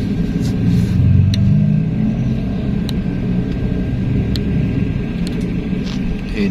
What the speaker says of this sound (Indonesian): Banyak bus akap di sini, terutama Sun.